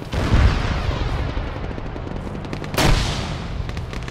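Video game combat with two heavy grenade blasts, one early and one near the three-second mark, amid a continuous crackle of gunfire and rumble, with no voices over it.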